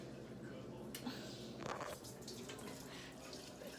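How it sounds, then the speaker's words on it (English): Tap water running steadily into a cooking pot in a home kitchen, a continuous hiss and splash at moderate level with a voice talking over it. "fill up the pot with some water."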